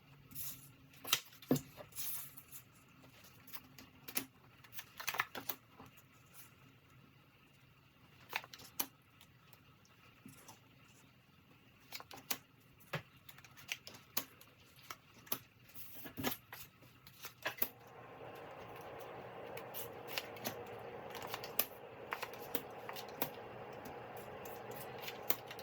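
Tarot cards are laid out one by one in a circle on a table, giving soft, close slides, taps and light card snaps at an irregular pace, with a steadier rustling texture near the end.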